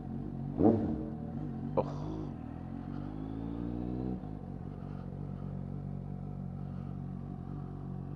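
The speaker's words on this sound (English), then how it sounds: "Being the exhausts are so noisy" A Suzuki GSX-S750 motorcycle with loud aftermarket exhausts revs up in a couple of quick throttle blips, then holds a rising drone before dropping back to a steady, rumbling idle close by.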